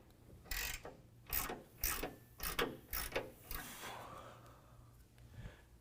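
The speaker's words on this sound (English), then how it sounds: "after removing the 21 millimeter bolt off of the bottom of the frame" A hand ratchet backing out a 21 mm hitch bolt under the frame of a 2019 Chevy Silverado 1500, with a run of close, loud clicking bursts in a steady rhythm that ends in a softer, fading rattle.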